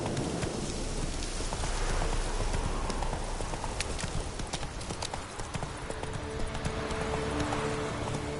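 Horse hooves clip-clopping at a steady ride in a video game, continuous rhythmic hoofbeats over the hiss of rain, with a low rumble underneath.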